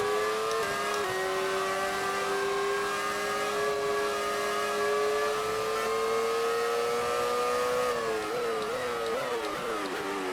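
In the F1 2018 game, a Brawn Formula One car's engine revs loudly and continuously, its pitch climbing through gears with shift dips near the end, no voices present.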